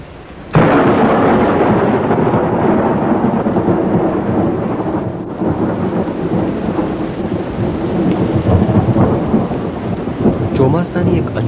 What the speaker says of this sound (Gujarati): ચોમાસાની એક અંધકાર ભરી રાત હતી, સુસવાટા સાથે પવન વાતો હતો, વરસાદ વરસતો હતો